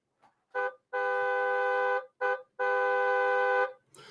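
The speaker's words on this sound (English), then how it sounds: "on your horn, you do have 5 different car horns" Car horns on an autorack car in a railway simulator game, sounded in four bursts: two short toots each followed by a longer sustained blare, clear and close with no talking.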